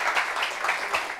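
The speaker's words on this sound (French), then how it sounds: "Applaudissements pour lui" Applause from an audience at a gathering, a steady diffuse patter of many hands at moderate distance, continuous and fairly even with slight swells through the short stretch.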